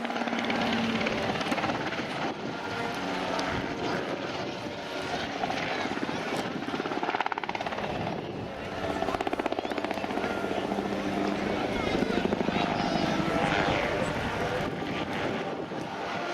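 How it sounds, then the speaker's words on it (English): An Air Total Calidus autogyro, a German-designed tandem two-seat aircraft, flies at an air show. Its engine and rotor drone carries steadily throughout, swelling and fading slightly with wind buffeting, and no voices can be heard. "This particular aircraft is the tandem two-seat aircraft designed in Germany in 2009."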